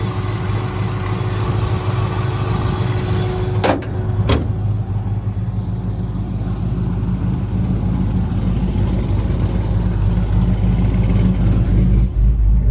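A box Chevy's car engine idles with a steady low rumble throughout, with a couple of brief clicks partway through; no one speaks.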